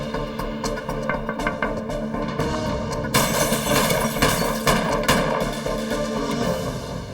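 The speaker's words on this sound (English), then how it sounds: "The witness hears the gunshots." Gunshots are fired at a police car in Jamaica, Queens: a burst of sharp, loud bangs and cracks, dense and repeated, intensifying after the first few seconds.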